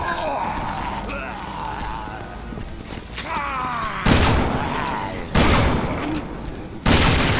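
Shotgun blasts in the video game Resident Evil 6 boom out three times, each sudden and loud, over busy game sounds while a voice talks throughout.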